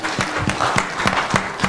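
An audience at a celebrity dinner claps together, a dense steady patter of many hands filling the room with a few sharper claps standing out.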